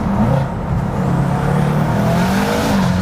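A BMW M5 engine with a stage 2 tune roars continuously under acceleration, loud and close, its pitch rising slightly over a few seconds.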